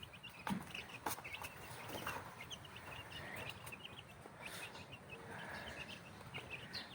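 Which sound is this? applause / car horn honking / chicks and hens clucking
chicks and hens clucking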